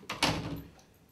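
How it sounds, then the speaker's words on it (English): A door opens during a dog training session. There is a soft click, then a short swishing sweep that fades quickly. It is quiet and close, with no talking. "I rewarded him by opening the door."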